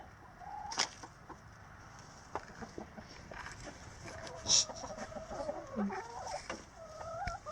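Hens cluck softly and intermittently, with a few sharper calls standing out against a quiet outdoor background.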